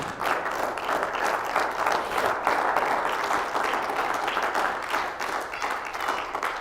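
A church congregation breaks into loud, sustained applause, dense overlapping clapping from many hands holding steady for several seconds and filling the room.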